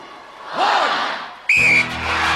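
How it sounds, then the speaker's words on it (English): A referee's start whistle at the 1994 International Gladiators event sounds as one loud, sustained blast near the end, cutting through arena crowd noise after an earlier rising swoop. "Russia and America, you will go on my first whistle."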